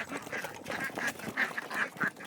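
Ducks quack repeatedly in short, nasal bursts at an uneven rhythm, moderately close and fairly quiet, with no talking.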